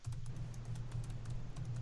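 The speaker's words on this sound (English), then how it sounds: "furious typing now going on" Rapid, continuous clicking of fingers typing on a computer keyboard, close and fairly quiet, with a low steady hum running underneath.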